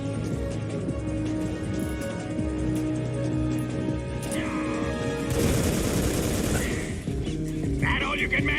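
Gunfire erupts in the Metal Gear Solid 3: Snake Eater video game, steady rattling bursts that turn into a loud dense barrage partway through, mixed over game music and shouted voices.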